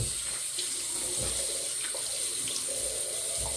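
Tap water runs steadily into a bathroom sink while the face is wetted before shaving, a continuous close splashing hiss with small bursts where hands move through the stream, no talking.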